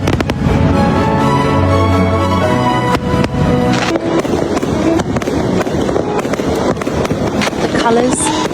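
Chinese New Year fireworks and firecrackers crackling and bursting continuously, loud and close with rapid dense pops and booms, mixed with a voice talking over them.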